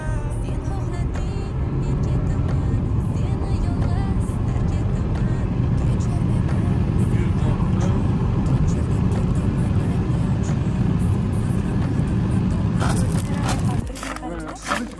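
A car with three people aboard accelerates hard from a standstill toward 100, its engine a loud steady roar throughout before cutting off abruptly near the end; voices talk over it.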